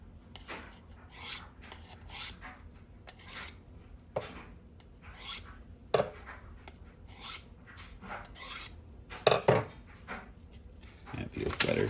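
A kitchen knife scrapes against an abrasive sharpening steel in a run of short, rasping strokes with uneven pauses between them, close and fairly quiet.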